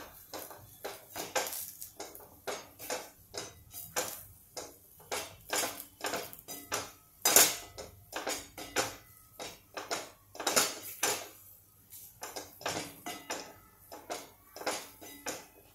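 Coriander being mixed into potato paratha filling in a plate, with irregular clinks and scraping taps of a utensil against the plate, close and fairly quiet.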